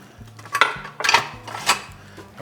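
A spoon scrapes and clinks against a pot as no-bake cookie mixture of melted butter is stirred, a few soft metallic strokes close by with no talking.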